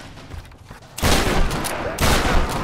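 A shotgun fires in the video game Tomb Raider 2013, two loud, close blasts about a second apart, each a sudden broadband boom that lingers with a rough, rumbling tail.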